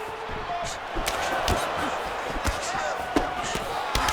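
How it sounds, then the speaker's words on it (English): In the EA Sports UFC 5 video game, punches land with dull thuds during a women's MMA bout, under a steady roar of arena crowd noise. "that punch elicited a reaction from the crowd"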